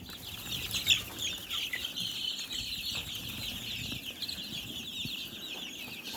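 Soft clucking of several chickens in a pen, faint and continuous, with occasional rustling and a brief sharp squawk early on.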